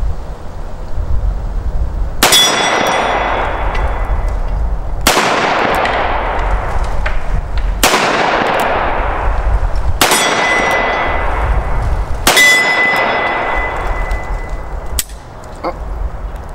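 A Colt 1873 Peacemaker single-action revolver fires five loud rounds, each a sharp ringing crack with a long echoing tail, spaced a few seconds apart over steady outdoor background noise.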